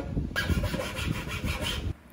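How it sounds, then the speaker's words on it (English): A hand file rasps back and forth across a wooden keyhole saw handle, giving several close, steady scraping strokes that stop abruptly. "I do some shaping with files"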